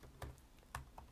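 Web address typed on a computer keyboard, three faint separate key taps, quiet and close.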